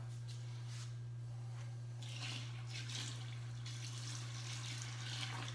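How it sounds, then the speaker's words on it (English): Water poured into a bucket of rocky mud for a homemade fish habitat, a soft splashing trickle in bursts over a steady low hum, fairly quiet with no talking. "Now I'm gonna add some water."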